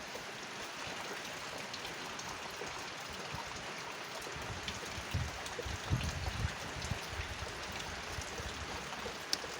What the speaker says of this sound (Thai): ฟังเสียงฝน